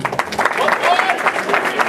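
Wedding guests applauding a best man, a brief burst of clapping from a room full of people with voices mingled over it.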